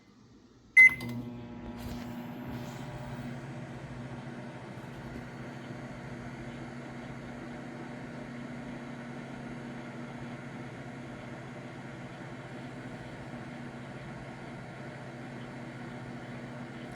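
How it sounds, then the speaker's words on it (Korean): A microwave oven runs for about two minutes while sterilizing an eye-wash device, giving a steady, even hum after a short click at the start. "계속 시클이 전자레인지 안에서 소독이 되고 있는 과정을 보고 계십니다."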